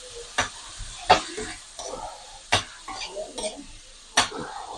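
Tomatoes go into a pan of frying frog meat, giving a soft sizzle with spoon scrapes and clinks against the pan at irregular intervals, close up, with someone talking quietly.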